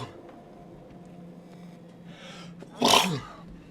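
A single loud, sharp sneeze bursts out near the end, over a quiet room hum.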